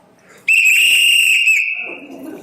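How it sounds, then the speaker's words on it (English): Whistles are blown at once in a single loud, sharp, sustained shrill blast lasting about a second that then fades, with faint voices before and after. "We each blow our whistle."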